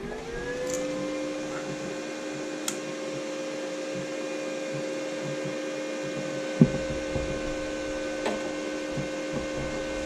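Silex 160A MIG/MAG welder switched on, giving a steady electrical hum with a fan-like drone that holds evenly throughout, close by, with a few faint clicks and taps over it.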